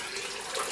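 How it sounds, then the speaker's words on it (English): Water pours steadily into a pot being filled for home-brewed root beer, a brief continuous hissing splash heard close and alone. "another ½ gallon to get a full gallon of water"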